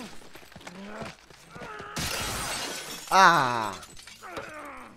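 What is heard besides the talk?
glass smashing against a face in The Last of Us video game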